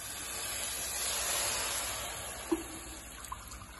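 Hot water pours steadily into a pan for boiling chicken noodles, a continuous hissing, splashing stream close by, with a couple of small knocks near the end.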